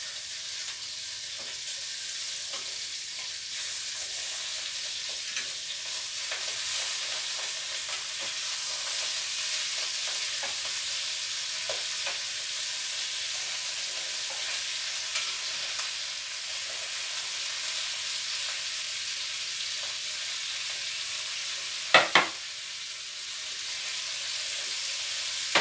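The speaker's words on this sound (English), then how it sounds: "I got stuff sizzling and carrying on." Sausage and fish sizzle while frying in a pan, a continuous dense crackling hiss that holds steady and fairly loud throughout, with occasional faint clicks and a brief sharper clatter near the end.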